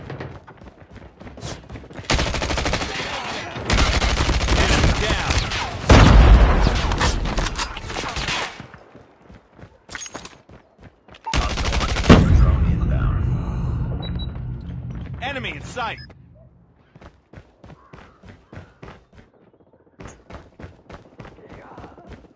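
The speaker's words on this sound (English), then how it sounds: "Hostile sentry gun in your AO." Call of Duty sentry gun fire: two long, loud, dense bursts of rapid automatic shots separated by a brief lull, then scattered quieter game noises.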